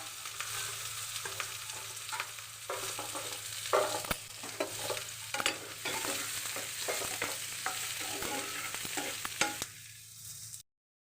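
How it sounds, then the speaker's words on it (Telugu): Chopped onions and green chillies fry in oil, a close sizzle broken by repeated scraping stir strokes at an uneven rhythm, ending abruptly. "ఆయిల్ పోసుకుందామండి. ఉల్లిపాయలు, పచ్చిమిరపకాయలు ముక్కలు వేసుకుందాం."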